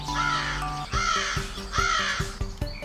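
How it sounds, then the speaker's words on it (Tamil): A crow caws in three separate bursts of harsh, repeated calls, loud and close, over steady soft background music. "காகம் எப்படி கத்தும்?"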